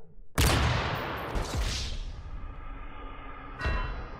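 Nerf blaster fired indoors: a sharp burst at the start, then a rattling, fading tail, and a second smaller shot near the end, with no voices.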